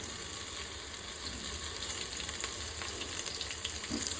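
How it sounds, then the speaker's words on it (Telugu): Thinly sliced onions with coriander fry in hot oil, a steady, dense sizzle that holds evenly from start to finish, close and fairly loud with no talk. "సన్నగా కట్ చేసిన ఉల్లిగడ్డ. లైట్గా మన బ్రౌన్ కలర్ వచ్చే వరకు ఫ్రై చేసుకోవాలి."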